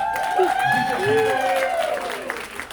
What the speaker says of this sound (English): let's give a round of applause for Evie for this beautiful event